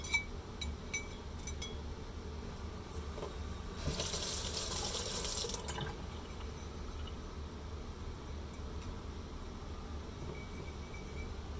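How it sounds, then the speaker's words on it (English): A finished copper fish hook key chain piece, held in copper tongs, swished around in a container of water: a low steady watery churn with a brighter splashing burst in the middle and small clinks. "Holding your finished piece with your copper tongs, submerge it and swish it around in the water"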